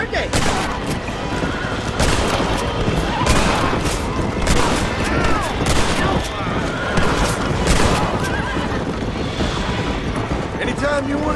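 A dense, loud shootout in Red Dead Redemption, with rapid overlapping gunshots and booming blasts rattling without pause, and voices talking over the gunfire.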